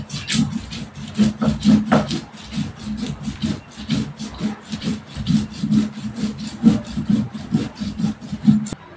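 Whole spices such as black pepper and coriander are ground on a stone shil-nora slab, making rhythmic scraping and rubbing strokes, close and fairly loud, repeating steadily back and forth throughout.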